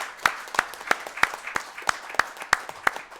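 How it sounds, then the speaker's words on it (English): A few people at a conference session in Brussels clap in a steady, even rhythm, with sparse, distinct hand claps at close range and no voices. "we'll show them a round of applause"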